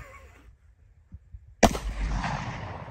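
A single .357 Magnum shot strikes an AR500 steel target, a sudden sharp bang followed by a ringing, decaying metallic tail and faint outdoor echo, after a quiet lead-in with a few soft handling knocks.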